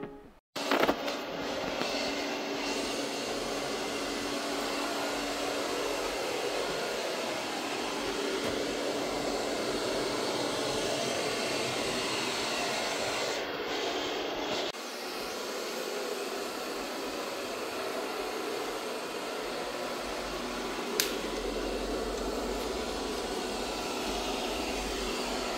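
A vacuum cleaner runs steadily with a smooth, continuous motor hum and airy whoosh, close by and fairly quiet, with a brief pause partway through.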